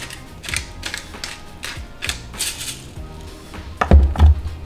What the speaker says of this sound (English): I do wanna add a little bit of freshly cracked pepper in there.